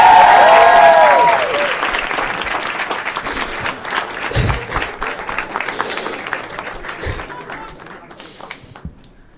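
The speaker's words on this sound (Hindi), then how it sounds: "एक बार जोर तालियां भाई के लिए यार" A loud studio audience breaks into enthusiastic applause for a contestant on a reality show, dense clapping that starts at full strength and slowly fades over several seconds, with a little voice heard beneath it.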